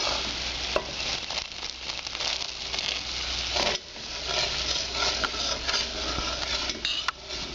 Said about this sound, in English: Now that our sugar has dissolved and our mixture has come to a boil, we're going to add our peanuts.